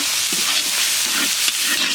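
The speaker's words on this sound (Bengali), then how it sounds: "মশলাটা খুব বেশি ভাজা লাগবে না," Spices sizzle steadily in a hot pan as they fry for a meat curry during picnic cooking, with a dense, even hiss, soft stirring scrapes and no voices.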